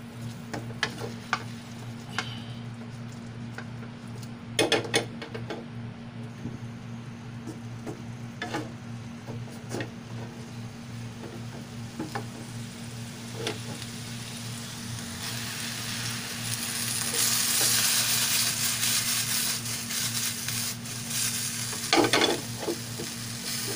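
Shrimp and cauliflower being stirred in a pan with buttered garlic, a steady sizzle with repeated scraping clicks of the utensil, swelling louder toward the end, close and without talk.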